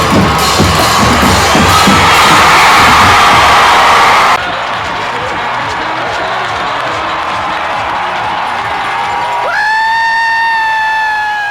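A large crowd at a high school state football championship game roars and cheers loudly for several seconds, then the noise drops to a lower sustained crowd din before a whistle-like tone and continued cheering near the end.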